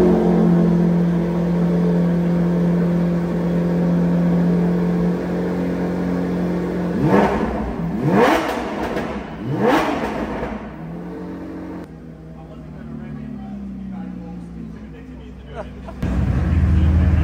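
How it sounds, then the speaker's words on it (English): A Lamborghini supercar engine starts and revs, with three loud rising-and-falling revs in quick succession after a steady idle, then settling back down. Talk is heard around it. "I need to actually start the car and pop the front up so I can reach down there"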